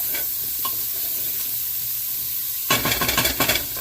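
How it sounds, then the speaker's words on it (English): Onions cook slowly in a pot over medium-low heat, giving a steady soft sizzle with light stirring scrapes, and a louder, busier burst of stirring and frying near the end. "We want the onions fully cooked before we add anything else."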